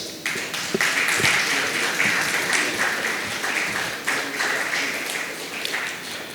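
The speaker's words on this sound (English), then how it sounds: "A round of applause." An audience at a business conclave breaks into sustained applause, dense rippling clapping that swells and holds steady for several seconds before easing slightly toward the end.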